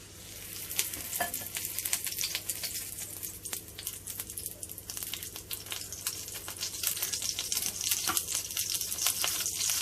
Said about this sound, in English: Let's give it a good dipping before it goes in the frying pan.